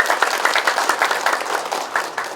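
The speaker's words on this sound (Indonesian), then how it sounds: "Tepuk tangan" Applause from an audience at a community program briefing for a Bandung district, a dense run of many hands clapping at a steady level, with no voices.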